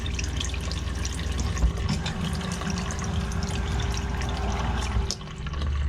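Water rushes steadily from a stainless residential faucet in a Jayco Melbourne RV as its lines are flushed, a continuous moderate hiss with slight variation and a small drop near the end.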